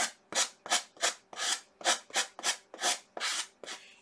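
Sandpaper rubbed over a surface with a sanding block in about ten firm, evenly spaced back-and-forth strokes, close and alone.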